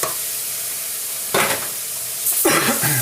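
Rice tipped into a pan of softened, translucent sautéed onion for a cheese risotto, starting with a quiet low simmer and then loud bursts of sizzling and stirring as the grains hit the hot fat, two clear surges.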